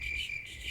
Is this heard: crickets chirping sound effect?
yes